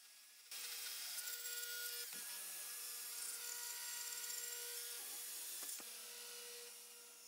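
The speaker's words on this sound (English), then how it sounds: "I had to lift the saw out of the wood to release the tension" A saw rough-cuts thick wood slabs for an epoxy river table, a steady close rasping cut running several seconds with two brief knocks as the blade catches, no talking.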